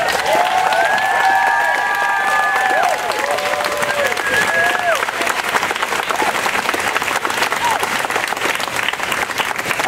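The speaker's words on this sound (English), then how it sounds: "let's give a big round of applause to Jesus" A crowd at an outdoor anti-fascist rally in New Haven applauds loudly and continuously, with cheering mixed in and whistle-like tones early on, the clapping staying dense and steady throughout.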